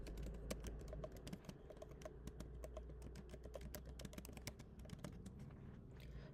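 Steady typing on a computer keyboard, a continuous run of close, soft key clicks with uneven rhythm over quiet room tone.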